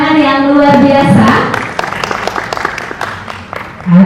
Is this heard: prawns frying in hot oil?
no